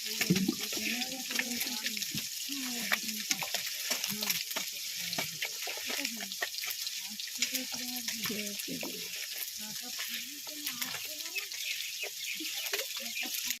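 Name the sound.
fish frying in oil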